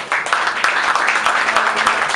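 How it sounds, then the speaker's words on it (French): An audience claps steadily at the official launch concert of a tour in November 2012, a brief, dense burst of many hands applauding at fairly close range. "Je vous prie d'applaudir très très fort"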